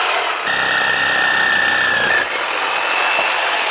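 Power tool cutting seasoned oak hardwood into small chunks for a fire: a steady, loud motor whine with grinding noise runs about two seconds, then cuts off into a lower ambient hum.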